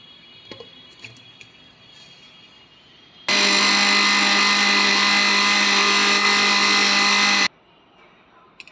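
An electric grinder whirs loud and steady for about four seconds as it grinds peeled chickpeas, starting and stopping abruptly between quieter stretches of room noise.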